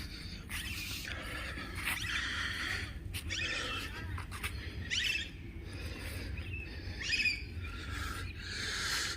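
Hill parrots call near Gorumara forest in the Dooars. Faint, distant chirps and squawks come in short scattered bursts over a steady outdoor background hiss.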